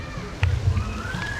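Water slides down the steps of a tiered pool cascade in a short, close burst of sloshing and splashing, with faint background sounds.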